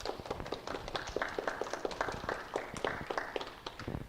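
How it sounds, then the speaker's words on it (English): A small audience at a meetup gives a winner a round of applause, a faint, loose patter of hand claps lasting a few seconds. "Let's give a round of applause."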